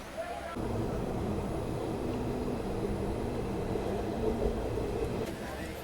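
A passenger train running between Mumbai and Aurangabad, heard from inside as a continuous low rumble with faint voices over it.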